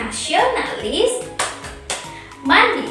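Children and a teacher run through the tepuk PPK classroom clap chant, rhythmic hand claps punctuating the chanted words, clear and close with young voices speaking over the beat.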